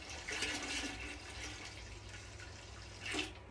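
Distilled water pours steadily into cheese curds while making Gouda, a soft continuous splashing wash with a brief louder gush near the end.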